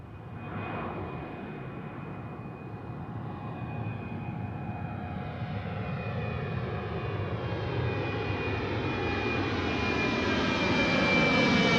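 A Ryanair jet airliner takes off at Milan Malpensa with a broad, steady roar that slowly swells and brightens over about twelve seconds, heard from a distance with no voices.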